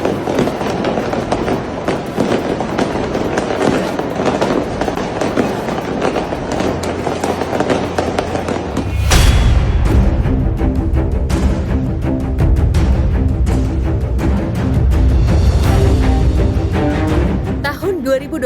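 New Year's Eve fireworks and firecrackers in Medan, dense rapid crackling bursts that start midway and keep popping loudly over a low rumble, with voices and background sound underneath.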